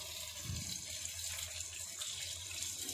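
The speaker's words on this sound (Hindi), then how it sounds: "अब ये हम इनको फ्राई करने लगे हैं, ये देखें।" Vegetable pakoras and drumsticks fry in oil over a low flame, giving a steady, even hiss that holds throughout without pauses.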